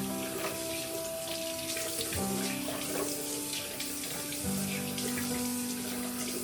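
Water runs steadily from a tap into a sink while a face is washed with Johnson soap, a constant splashing flow with faint tonal hum underneath, close and moderately quiet.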